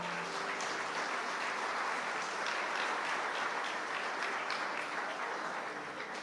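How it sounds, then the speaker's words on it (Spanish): Steady applause from a crowd fills the whole stretch, a continuous even wash of many hands clapping at moderate volume. "Démosle un aplauso."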